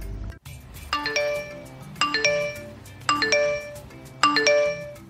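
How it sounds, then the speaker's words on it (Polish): A telephone rings in a melodic chiming pattern, four bright rings repeating at about one-second intervals, loud and close with no talk over them. "Hania, zobacz, dzwoni telefon."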